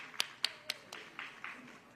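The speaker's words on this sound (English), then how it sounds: "Please stand up for a round of applause." A few sparse hand claps ring out at a heritage month celebration honoring first responders and nurses, about eight distinct claps spaced evenly, fairly quiet against a hushed room.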